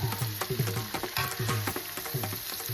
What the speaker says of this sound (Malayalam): ചെറിയ പടക്കം പൊട്ടും പോലെയൊക്കെയുള്ള ശബ്ദം കേൾക്കാം കാന്താരി മൂത്തു തുടങ്ങിയെന്നർത്ഥം